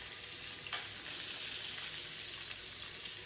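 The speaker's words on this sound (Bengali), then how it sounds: "মাছগুলো ভাজা প্রায় শেষ। বেশি মচমচে করবো না" Pieces of catla fish sizzle steadily in hot oil, a dense, continuous frying hiss with a brief sharper crackle near the start and no talking.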